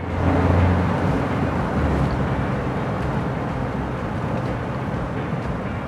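A 2012 Smart Fortwo's small engine drones and strains steadily while climbing a highway on-ramp, with constant road and wind noise from inside the cabin and no talking.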